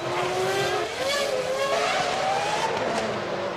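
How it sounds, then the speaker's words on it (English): A McLaren Formula One car at the Monaco Grand Prix, its engine note rising and falling as it drives slowly through the street circuit, loud and sustained with gradually climbing pitch, no talking. "It's a slow McLaren, lost a lot of speed as he's cruising through."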